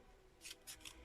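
Scissors snipping small heart shapes out of a cardboard tube for a Valentine's craft, three quick close cuts in a row, crisp and faint, with no voices.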